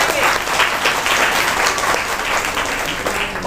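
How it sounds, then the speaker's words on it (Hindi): A church congregation claps together in a loud, sustained wash of applause, with some voices mixed in beneath the clapping throughout. "ताली बजा के परमेश्वर की महिमा करेंगे।"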